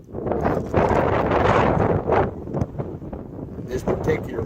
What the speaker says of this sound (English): You can see I've got a terrible wind today.